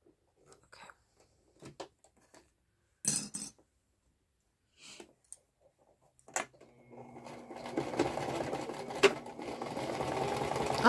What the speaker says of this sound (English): this sewing machine has been an absolute wonderful investment